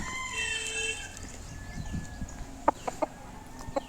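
A roughly two-kilogram red-black desi aseel fighter rooster makes clucking sounds close by. A few sharp taps come near the end, and no one speaks.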